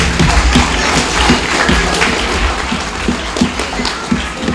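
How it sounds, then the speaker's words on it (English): Audience applause at a live event at Chinmaya Vrindavan, steady dense clapping filling the room for several seconds with occasional louder claps, close and full. "All right, give them another big round of applause."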